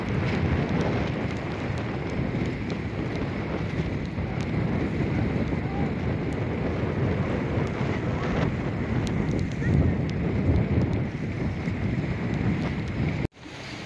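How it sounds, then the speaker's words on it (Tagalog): Strong wind roars continuously at a seawall in Baseco, buffeting the microphone with a heavy rumbling rush, steady and loud for the whole stretch. "ang lakas ng hangin dito."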